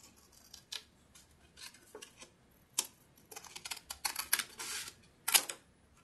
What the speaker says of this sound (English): And then I'm going to get my scissor. And I'm going to cut it in half.